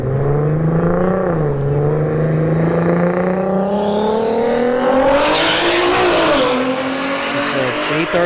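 At a drag strip, a BMW and a turbocharged Infiniti G37 roar off the line with loud, rising engine revs and a gear change partway through, close and continuous.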